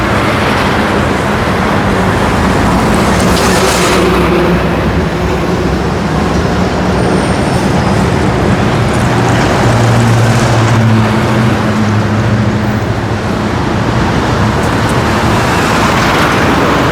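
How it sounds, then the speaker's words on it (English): Steady, loud roar of road traffic, vehicles rumbling past close by with low engine drones rising and fading over a constant wash of noise. "I show you the traffic."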